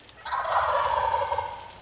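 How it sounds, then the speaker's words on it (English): Wild turkeys, hens and toms, call nearby outdoors with a single loud, rolling gobble that sustains for over a second and then fades. "The hen starts getting more vocal as I get the hens and the toms more fired up"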